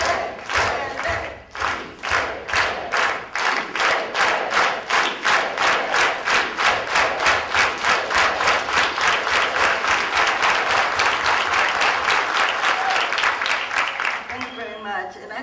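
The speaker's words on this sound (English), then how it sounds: "So let's all do that with an organized hand clap." A conference crowd chants a Spanish rallying slogan in unison while clapping in a steady, organized rhythm, the regular beats of hands and voices repeating loudly and close for over a dozen cycles before trailing off.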